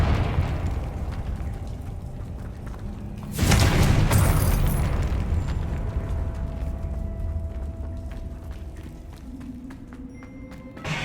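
Confringo blasting spell in the video game Hogwarts Legacy bursts into a loud, sudden explosion with a deep boom and crackling debris that slowly fades, over a low steady game background.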